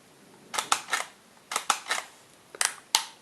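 Nikon Df camera shutter in quiet mode, several soft paired mechanical clicks and whirs, close and fairly faint, spread out with short pauses between them.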